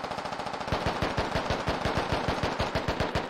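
Automatic weapons fire in the military shooter game Squad: a sustained, rapid run of loud, evenly spaced shots that rattles on for several seconds without a break.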